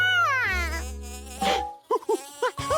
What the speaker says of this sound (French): Encore des abeilles?